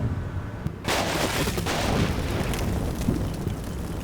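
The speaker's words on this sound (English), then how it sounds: "Got a general barrage here." Artillery barrage in the Combat Mission Black Sea war game: a dense, continuous roar of explosions and rumbling blasts bursts in abruptly after a short quiet opening, then holds loud and sustained with scattered sharper impacts.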